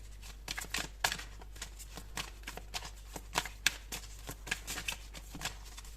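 Tarot cards shuffled by hand, a quiet, rapid run of crisp riffling flutters and soft slaps repeating unevenly over a low steady hum, with no voice.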